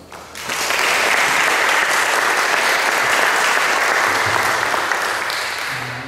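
Sustained audience applause greets a guest lecturer at a conference on Andean ethnographic images, a dense wash of clapping that swells within the first second and holds steady before easing slightly at the end.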